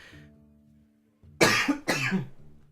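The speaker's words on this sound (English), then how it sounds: "I'll have to go through and maybe edit out these coughs, because they are causing me lots of problems" A person with an irritated throat coughs twice in quick succession, close and fairly loud, after a moment of faint background game music.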